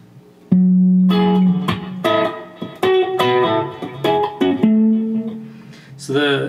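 An electric guitar plays one measure of a song with sustained bent notes, two open strings and a percussive slap near the end, clean and close, played alone with no talking.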